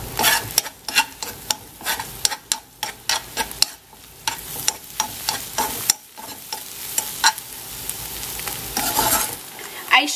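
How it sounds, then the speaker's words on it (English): Egg yolks popped and mixed in a pan for an omelet, a spatula scraping and tapping in quick irregular strokes over a soft sizzle, close and fairly loud. "I pop the yellow and mix them just like this"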